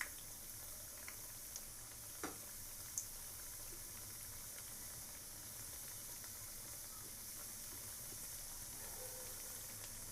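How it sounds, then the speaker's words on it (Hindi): Wheat-flour mithai deep-frying in hot oil gives a faint, steady sizzling hiss throughout, with a few small pops and no voices. "हम सभी को डाल दिए हैं, अब फ्राई कर लेते हैं।"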